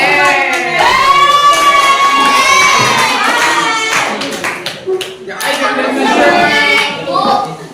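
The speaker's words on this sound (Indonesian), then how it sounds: "tepuk tangan" A class of children in a lesson on managing emotions cheers and shouts excitedly while clapping, their high voices loud and overlapping, dipping briefly in the middle before rising again.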